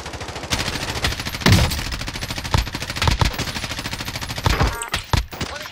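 Rapid automatic gunfire in the shooter game Call of Duty: Warzone, loud, dense bursts with sharp cracks running almost continuously through the stretch, a few heavier shots standing out near the middle.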